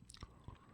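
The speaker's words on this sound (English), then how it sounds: "So I'm hearing him chew in the background." Soft chewing of food in the background, two or three faint crunchy bites in under a second, close to the mic but quiet, with no talk.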